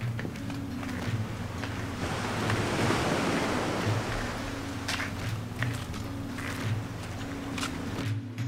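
Surf rolling onto the beach at Negril, Jamaica, a steady broadband wash that swells and eases, with wind buffeting the microphone and a low motor-like hum beneath.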